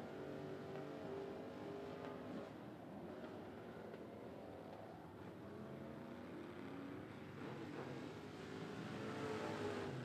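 A street stock race car runs laps on the 411 Motor Speedway track, its engine droning and shifting in pitch as it passes at a distance, faint and steady with a rise toward the end.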